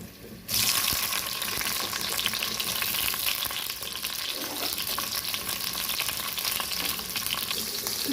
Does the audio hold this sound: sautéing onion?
yes